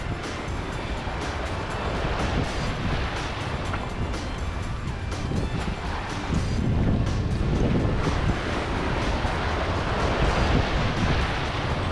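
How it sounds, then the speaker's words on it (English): Water rushes and splashes off the bow of a sailboat under way, a continuous loud wash of wake and spray mixed with heavy wind buffeting the microphone, swelling stronger partway through. "Watch the bow wake."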